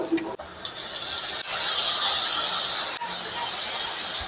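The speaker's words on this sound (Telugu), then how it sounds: "ఈ రైస్ ని అయితే దీంట్లో వేస్తున్నాను" Soaked basmati rice is poured into a pan for veg pulao, a close, steady grainy hiss of grains sliding and pattering, broken by a few brief pauses.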